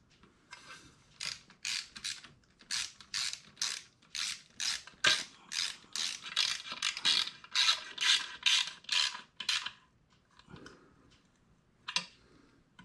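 A ratchet wrench tightens bolts on Touratech valve cover protectors fitted to a 2022 BMW R1250GS, giving a long run of quick, close, rhythmic clicking bursts, then a pause and one last click.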